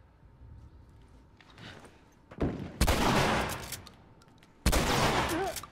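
Bursts of gunfire in The Last of Us Remastered: a quick pair of loud shots followed by a sustained volley, then another heavy blast, rising from a quiet background.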